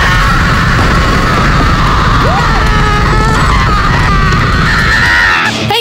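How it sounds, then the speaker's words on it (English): A loud crowd of voices screams and yells together in a continuous, chaotic din lasting several seconds, with a higher cry rising above the mass near the end. "I heard a lot of screaming out there."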